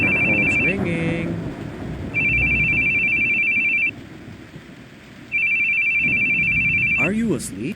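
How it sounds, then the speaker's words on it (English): A phone rings in a horror role-playing game as repeated long electronic trills, loud and close, broken by a gap in which short voice-like sounds are heard. "Your phone. Your phone's ringing."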